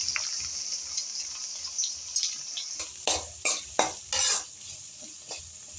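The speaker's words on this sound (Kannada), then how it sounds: "ಈ ಈರುಳ್ಳಿ ಸ್ವಲ್ಪ ಕಲರ್ ಚೇಂಜ್ ಆಗಲಿ ಫ್ರೆಂಡ್ಸ್, ಅಲ್ಲಿ ತನಕ ಚೆನ್ನಾಗಿ ಫ್ರೈ ಮಾಡ್ಕೊಳ್ಳಿ." Onions frying in a pan for an egg kurma, a soft sizzle overlaid by several sharp clinks and scrapes of a metal spoon stirring against the pan, growing busier toward the end, no speech.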